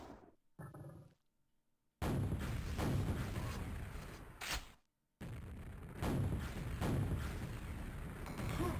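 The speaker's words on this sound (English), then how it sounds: "And he's firing the wrong way again. Maybe intentionally trying to bounce the grenades of the wall" Grenade launcher fire in QuakeWorld on ztndm3, aerowalk or bravado maps, loud blasts and booming bursts recurring across the stretch, broken by brief quiet gaps.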